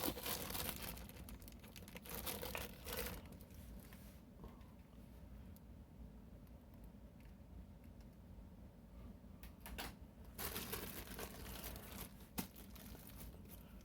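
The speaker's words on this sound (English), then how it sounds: "you can actually hear me taking it out of the plastic bag" Plastic crinkling and rustling close by, coming in irregular bursts, louder near the start and again toward the end.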